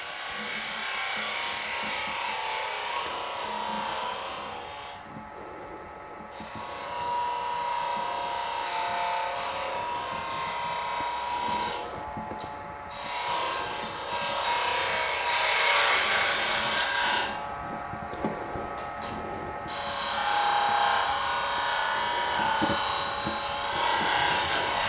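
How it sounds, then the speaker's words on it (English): A regular skew chisel used as a negative rake scraper rubs against spinning wood on a lathe, a steady loud scraping hiss broken by short pauses as the tool lifts away. "I'm going to go ahead and take a regular skew chisel and use it as a negative rake scraper"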